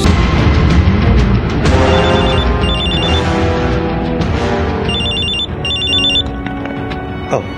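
A mobile phone rings in repeated short bursts of bright electronic trilling, two pairs of rings standing out clearly over a dense background of music and noise.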